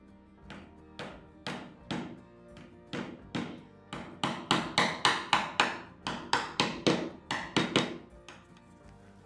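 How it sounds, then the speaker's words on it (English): Hammer blows peen the cut nail ends to rivet copper sheathing onto a wooden double paddle, a long run of sharp, evenly spaced metallic taps that grow louder and quicken midway, close and with no talk. "I rivet the nails. I'm not using rows. I'm simply peening the ends of the nails"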